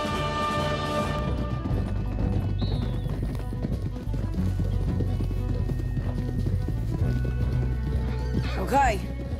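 Horses in the video game Red Dead Redemption 2 clop along with hooves thudding while one neighs and whinnies loudly, set against game music and ambience, with characters talking over parts of it.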